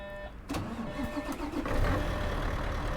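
A Mercedes Travego Special Edition tandem-axle coach in Euro Truck Simulator 2 cranks and fires, its engine catching about half a second in and settling into a loud, steady, rumbling idle that builds slightly, with no talk.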